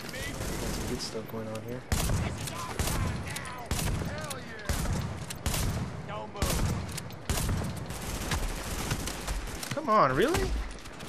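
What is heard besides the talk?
shotgun firing in The Division video game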